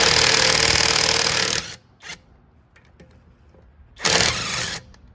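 A power tool breaks loose the wheel bolts on a Mercedes raised for a front and rear brake pad and rotor job. There is one long loud burst, a short blip, then a second shorter burst.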